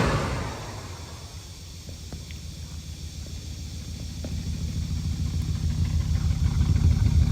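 A 1964 Pontiac Catalina 2-door Sport Coupe with a 389 V8 idles, its low, steady pulsing rumble heard from behind the car and swelling louder over the course of the recording.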